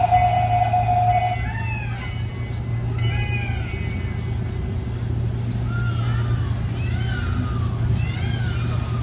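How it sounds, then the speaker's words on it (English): A small zoo train engine idles with a steady low rumble, while peacocks call out in a series of repeated shrill cries from the distance. "it sounds like the train is actually firing up here"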